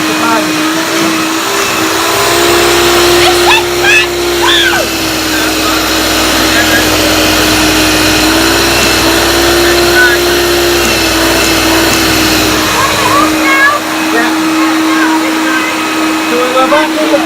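A 1975 Hoover Dial-a-Matic upright vacuum cleaner with Automatic Power Drive runs steadily and loudly throughout, a constant motor whine with a strong steady tone, with people talking intermittently over it.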